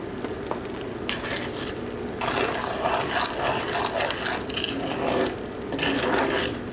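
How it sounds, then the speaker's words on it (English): A sugar mixture for a graham cracker pecan pie being stirred steadily in a pot, a close, continuous scraping and sloshing that swells and eases in waves with no talking. "We're just going to keep on mixing."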